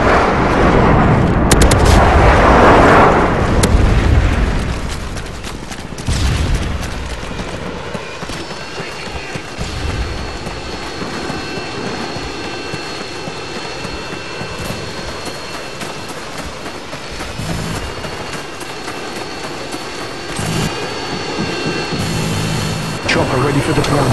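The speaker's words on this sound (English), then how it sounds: "Friendly Harriers inbound." Video-game combat in Call of Duty Modern Warfare 2 on the Wasteland map, with a Harrier jet airstrike: loud roaring blasts and explosions at the start, then sustained rumbling battle noise, gunfire and a steady jet-like whine.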